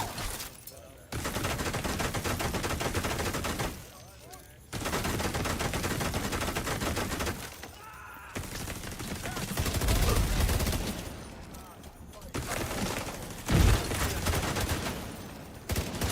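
An assault turret in The Division 2 lets off rapid bursts of automatic gunfire, with several loud volleys broken by short pauses and quieter stretches, and a sharper shot near the end.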